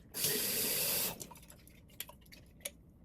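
A kitchen tap runs water over sprouting seeds in a dish for about a second, a loud, close gush, followed by soft drips and small wet clatters.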